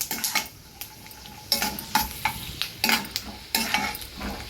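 Sabudana roasts slowly in a pan with curry leaves while a spoon stirs and scrapes it, producing repeated close clinks and scrapes over a soft, continuous sizzle.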